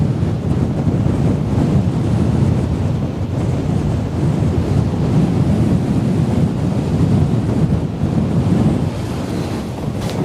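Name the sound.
strong wind blowing on the coast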